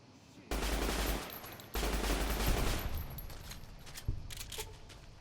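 A rifle fed from a 30-round stick magazine firing in Fallout: New Vegas, with loud, dense bursts of rapid shots, a brief break, then more sustained fire fading into scattered rattles.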